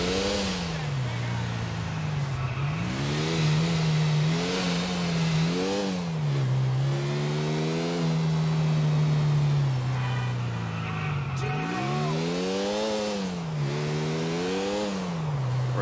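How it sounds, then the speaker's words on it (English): Motorbike engine in the video game GTA IV revving and shifting repeatedly, rising and falling pitch sweeps close up and loud, with a voice talking over it at times. "I have a motorbike instead of a car."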